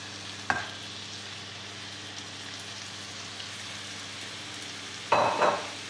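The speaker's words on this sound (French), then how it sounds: "une fois que le beurre a fondu, on va rajouter les épinards" Spinach frying in melted butter in a pan gives a steady soft sizzle, broken by two sharper bursts of crackle and stirring, one near the start and a louder one near the end.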